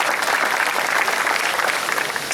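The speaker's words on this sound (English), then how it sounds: "let's give the Booster Club a big round of applause" Applause from a school varsity awards audience honoring the Booster Club, a steady, dense wash of many hands clapping close by, sustained evenly across the whole stretch with no voices over it.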